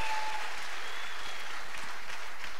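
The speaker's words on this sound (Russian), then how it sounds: "Аплодисменты." Steady audience applause at a business conference fills the room, dense and continuous for a few seconds with no voices on top.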